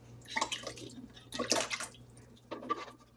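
Coconut cream pours and splashes from a can in a few short wet bursts, close up and with no talking, while Bisaya-style biko rice cake is being made.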